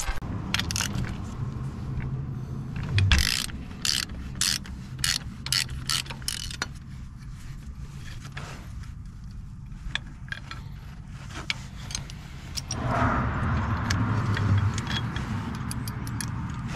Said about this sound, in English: So all you got to do is remove this bolt.